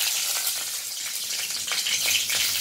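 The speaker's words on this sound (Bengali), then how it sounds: "তেলটা ছিটচ্ছে" Green and ripe chillies fry in hot oil, a bright continuous sizzle broken by sharp crackles and pops of spattering oil, close and fairly loud.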